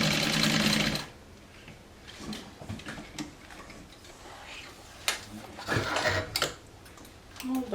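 A sewing machine stitching cork fabric for a Sew Sweetness Tower Messenger bag with a regular presser foot, a loud steady whir at the start followed by quieter intermittent ticking and mechanical clicks.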